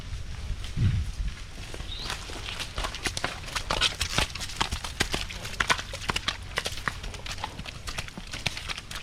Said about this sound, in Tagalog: Kabayo.